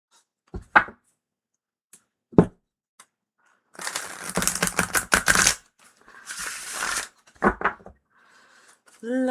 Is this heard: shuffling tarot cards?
yes